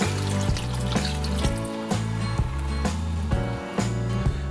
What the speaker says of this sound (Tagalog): Dagdagan ko ng tubig para mapalambot pa natin ng gusto yung pork.